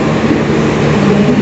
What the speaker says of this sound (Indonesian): tetap ikuti terus perjalanan saya bersama kereta api Sri Tanjung dari stasiun Surabaya Gubeng